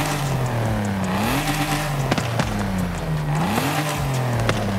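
A twin-turbo 2.6-litre engine in a Forza Horizon 5 race car revs steadily, its pitch climbing and dropping in repeated sweeps, with loud sharp pops and crackles between the revs and no talk over it.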